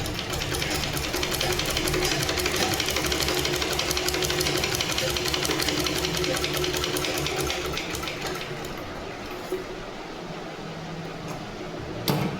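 A sewing machine stitches fabric in a long, loud, rapid mechanical chatter that runs steadily, then slows and stops near the end.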